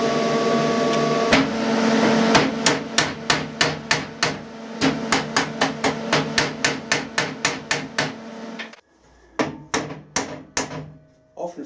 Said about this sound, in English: when the weld's cooling down, if you tap it gently, it gives the material a better composition